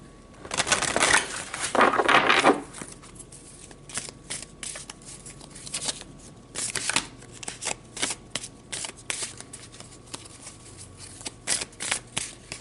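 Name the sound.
shuffling tarot cards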